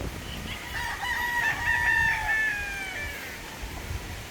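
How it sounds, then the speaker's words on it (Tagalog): Boston Black chickens outdoors, with a rooster crowing a long cock-a-doodle-doo in the middle and scattered clucking around it, fairly close over low background noise. "mga pulit, Boston Black, nasa labas"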